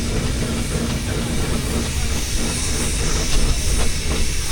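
A steam roller passes through a fair arena at an autumn steam fair, a dense steady rumble with hissing and clanking mechanical noise, loud and close throughout with no talk.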